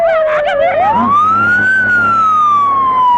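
An ambulance siren in a Tamil film scene wails loudly, its pitch sliding up then sweeping slowly down, with a brief warble at the start and traffic rumble beneath.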